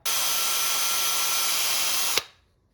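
Power drill boring holes through an RC car license plate during a body swap, a single steady high-pitched whine lasting about two seconds, close and loud, then cutting off sharply.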